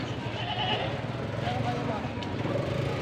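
Goats on a farm bleat in a wavering chorus, mid-distance, over constant outdoor background noise, with people talking nearby.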